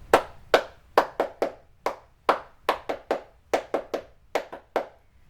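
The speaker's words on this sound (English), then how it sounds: "And then you do what we call claps, and it's this beat." Sharp hand claps beat out in a cheerleading tryout rhythm, single and double claps in a syncopated pattern, crisp and close with no voices.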